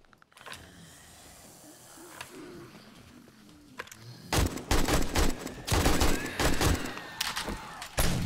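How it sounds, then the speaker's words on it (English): An AK rifle fires in the video game 7 Days to Die: after quieter ambience, loud bursts of rapid gunfire crack out in several close clusters, alone without talk. "I get stamina from shooting the AK."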